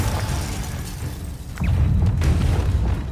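Confringo blasting spell exploding in Hogwarts Legacy, a deep booming blast that swells halfway through and rumbles on with scattered crackles of debris.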